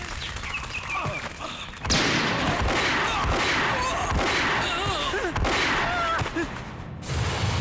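Gunfire in a South Indian Hindi-dubbed action film, rendered as loud sharp bangs that start suddenly and keep cracking through a dense, busy scene with shouting voices mixed in.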